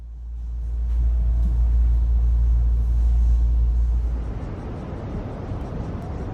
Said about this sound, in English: I took the train.